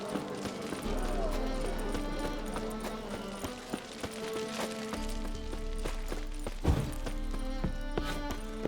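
Horse hooves clip-clop in The Witcher 3, a steady rhythmic trot carrying through the clip under game music and ambient sound, with a sharper thud near the end.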